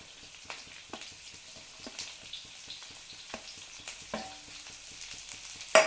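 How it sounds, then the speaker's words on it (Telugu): Green peas, carrot and spring onion stir-fried for veg noodles, with a quiet crackling sizzle and a steady rhythm of spatula strokes scraping the pan up close. "వెజిటేబుల్ వేసుకుంటూ జస్ట్ ఒక 10 సెకండ్స్ పాటు అయినా ఇలా ఫ్రై చేసుకోవాలి"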